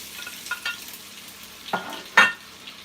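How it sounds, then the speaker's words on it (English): Sausages go into hot oil, giving a few brief crackling, sizzling bursts, the last one louder, over a faint steady background hiss. "Did you hear the sizzle?"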